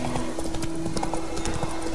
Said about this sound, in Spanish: Esto es lo bonito, lo padre de andar a caballo en The Witcher.